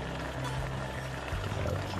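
A pot of chicken and pork ribs estafao with bay leaf, onion and garlic simmers with a soft, continuous low bubbling and gurgling, quiet and unbroken, with no voices.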